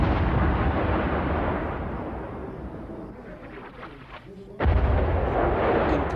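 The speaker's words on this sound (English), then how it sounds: "Incoming shells falling harmlessly on the mountains" Artillery and mortar shells landing on mountains near Dubrovnik in 1992, a continuous rumbling wash of distant blasts with one sharper, louder burst near the end, heard from afar.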